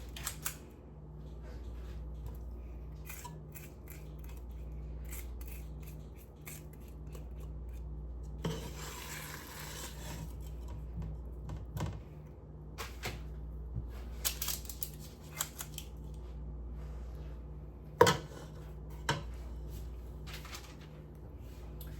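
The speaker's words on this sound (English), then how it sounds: "Goes my spatula down into the pan." A spatula scrapes and pushes no-bake cookie mixture around a pan, giving soft intermittent rubbing and scraping strokes over a low steady hum, with a few sharper clicks of metal against the pan.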